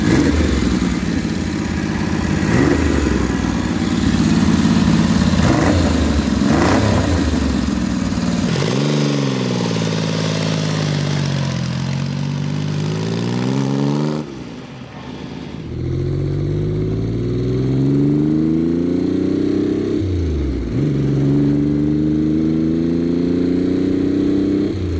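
A Triumph Speed Triple three-cylinder motorcycle with a triple exhaust runs steadily and loudly nearby, its revs rising and falling in repeated swells, with a brief dip before climbing again.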